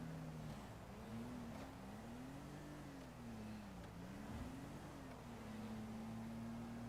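A car engine in GTA 5 drones continuously, its pitch rising and falling slightly as the revs shift, at a steady, moderate level with no voices.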